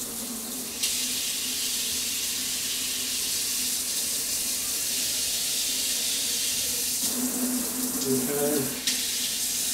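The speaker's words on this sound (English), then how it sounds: "Now, I like to go ahead and start the water because I want to make sure that there's no leaks under the sink." Water runs steadily from a kitchen sink faucet during a home walkthrough, a continuous close hiss and splash that swells briefly near the end, with a person speaking a word.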